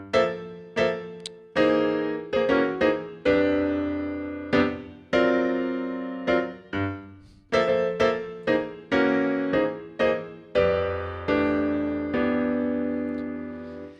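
A solo piano plays a jazz chord progression built on upper structure triads, with a series of rich, struck chords, some repeated in quick pairs and others left ringing, clear and close with no talking.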